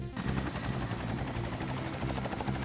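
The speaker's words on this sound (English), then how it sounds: "I've got the helicopter all fueled up and ready to go." A helicopter in the video game Ty the Tasmanian Tiger 2: Bush Rescue drones loudly and steadily, its rotor thudding continuously throughout with no speech.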